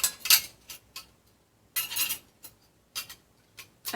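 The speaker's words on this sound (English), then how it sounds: "it's just a simple knife, fork, and spoon in a carrying case" A simple metal knife, fork and spoon handled in their carrying case, with a few crisp clinks and rattles in short separate bursts and quiet pauses between, close and clear.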